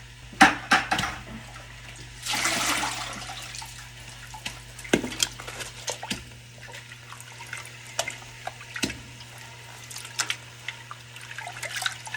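Yarn lowered into a dye pot of water gives a brief splash and gurgle of liquid, then quiet drips and light knocks against the pot under a steady low hum, close by with no talking.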